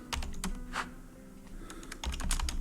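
Computer keyboard typed on at a steady pace, a dense run of clicky keystrokes close to the microphone, with busier bursts near the end.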